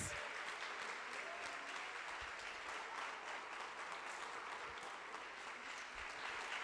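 Congregation applauding in church during a Portuguese-language worship service, with a dense, steady wash of clapping that holds loud and continuous throughout.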